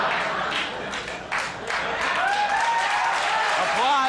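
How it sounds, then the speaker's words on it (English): Studio audience applause on a late-night talk show builds into a dense wash, with a voice and some whistling tones sounding over the clapping. "Applause, more applause."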